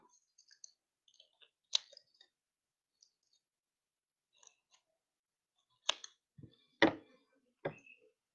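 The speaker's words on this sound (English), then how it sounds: "now I'm going to fold all the way around, fold my flaps down" Paper flaps of a handmade constellation viewer being folded down, heard as scattered faint crinkles and soft taps with a few louder creases and thumps near the end, close by, with no talking.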